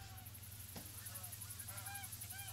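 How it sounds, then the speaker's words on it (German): Geese honking in theHunter: Call of the Wild hunting game, a scatter of nasal honks at moderate distance over a steady low hum, with a brief thump near the start. "Schon wieder die Gänse hier."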